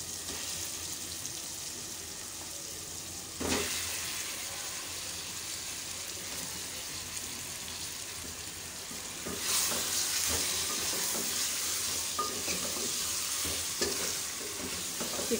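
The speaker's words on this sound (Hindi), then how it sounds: "और ये देखें जी हमारा चिकन फ्राई हो रहा है" Chicken fries in a pan with a continuous bright sizzle, stirred now and then with brief scraping bursts that briefly make the hiss louder, and no one speaks.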